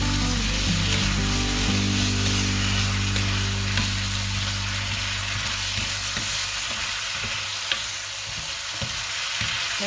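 Chicken stir-fried with onion and green onion in roasted chili paste, a loud continuous sizzle with spatula scraping and stirring clatter, close up and without talk.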